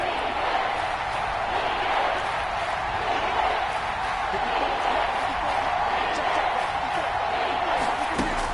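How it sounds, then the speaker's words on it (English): Stadium crowd noise from an American football video game, a steady, dense roar of cheering that swells slightly ahead of a big third down, continuous and fairly loud throughout with no clear breaks. "The crowd getting into it as we come up on a big third down."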